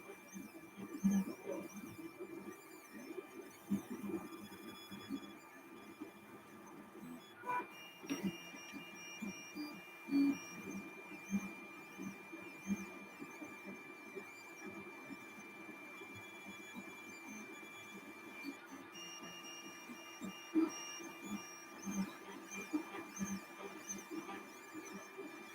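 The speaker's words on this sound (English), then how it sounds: "I suppose this could be ASMR 3D printer noises or something like that." Anycubic Mega S 3D printer at work, fitted with a V6 hot end, a quiet steady motor whine and hum broken by soft irregular stepper buzzes and faint clicks across the whole stretch, with no talking.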